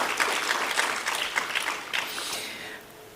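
Audience applause in a high school hall during a Hindi extempore event, a dense patter of clapping that holds steady and then fades out toward the end.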